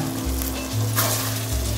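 Slit green chilies drop into a pan of Bengali chicken kosha, a steady close sizzle and frying hiss with a low hum underneath and no talking.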